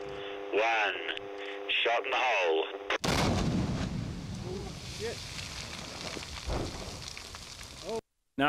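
A dynamite charge blasts away rock overburden at a field site in Antarctica, a sudden loud boom followed by rumbling debris and fading noise, preceded by brief tonal radio-like sounds.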